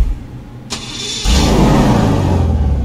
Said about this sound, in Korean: 이 차량의 엔진 소리도 한번 들어보도록 하겠습니다